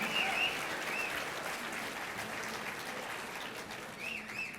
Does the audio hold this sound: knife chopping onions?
no